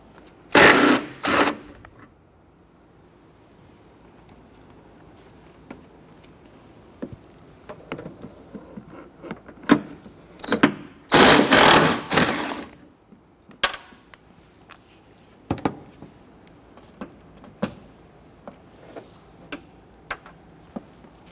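A power tool spins off the strut nuts on a 2006-2014 Honda Ridgeline front strut assembly: two short whirring bursts at the start and a longer, louder burst midway, with scattered clicks and taps of tools between.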